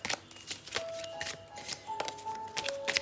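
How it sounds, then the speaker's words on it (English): Tarot cards shuffled by hand, a close run of quick riffling bursts and soft taps with brief pauses, clumsy handling nearly spilling the deck. "Almost dropping all the cards."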